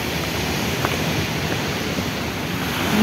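A steady roar of surf and wind washes over everything, close and constant, with no voices.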